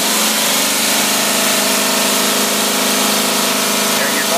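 A carbureted marine engine runs at a steady idle, a loud, continuous close-up mechanical drone with an even throbbing rhythm and no speech over it.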